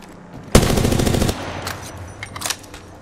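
Rapid automatic gunfire from an Apex Legends firefight rattles loudly in a burst of about three-quarters of a second, followed by quieter scattered shots and effects.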